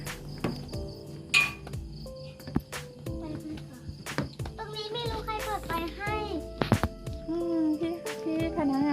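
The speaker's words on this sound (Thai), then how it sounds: "เสียงเป็นเสียงจิ้งหรีด" Crickets chirp steadily in the background at night on a riverside raft house in Kanchanaburi, Thailand, with faint clinks and footsteps close by and occasional soft voices.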